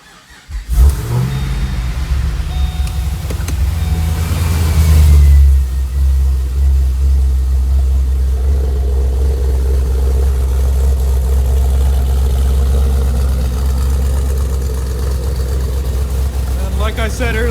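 A built 2009 Pontiac G8 GT with a swapped LSA engine, Borla cat-back exhaust and closed exhaust cutouts, rumbling at idle and revving once early, a loud deep drone held steady throughout.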